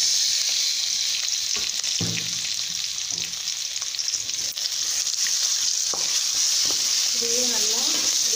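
Jackfruit pieces frying in a pan, a dense hissing sizzle throughout with intermittent stirring scrapes and taps, close and even.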